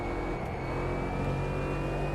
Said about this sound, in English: Car sounds pretty good as well.